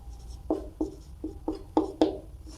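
A pen writes by hand on paper in a row of six short, firm scratching strokes spaced about a third of a second apart, close and clear against a quiet background.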